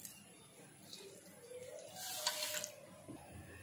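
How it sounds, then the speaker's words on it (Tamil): Water is poured onto ragi vermicelli, a faint trickle that swells into a brief louder splash near the middle and then fades, with quiet kitchen sounds around it. "இந்த ராகி சேமியாவில் 1 டம்ளர் தண்ணி ஆட் பண்ணிக்கலாம்."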